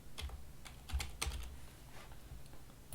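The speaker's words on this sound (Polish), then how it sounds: "To ponownie wpisujemy swoje konto oraz hasło do tego konta." A computer keyboard is typed on to enter an account name and password, producing a short run of quiet, irregular key clicks heard close and alone with no talking.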